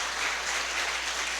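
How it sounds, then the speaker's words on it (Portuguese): Congregation applause in a church during a Good Friday service, dense and sustained clapping filling the room with no talk over it. "Dê uma salva de palmas para Jesus."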